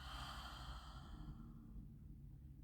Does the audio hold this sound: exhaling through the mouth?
yes